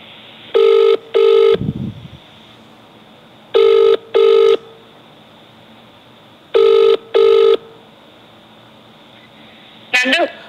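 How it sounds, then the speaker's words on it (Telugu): A telephone call rings out in three paired bursts of a steady electronic ring tone with pauses between them, loud and close on the line, before a brief sound as the call connects. "ఆమెతో ఫోన్ చేసే ప్రయత్నం చేద్దాం"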